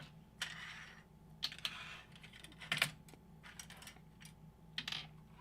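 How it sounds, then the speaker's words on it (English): Work desk items being slid and moved aside, a scatter of soft clicks, taps and knocks spread across the stretch at close range, with a low steady hum underneath and no talking. "I'm trying to move all my stuff to the side without being so freaking noisy"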